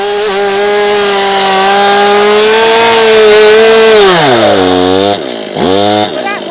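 Stihl chainsaw cutting wood, its engine whining loud and close at a high steady pitch, then dipping lower as it bogs into the cut and briefly revving back up near the end.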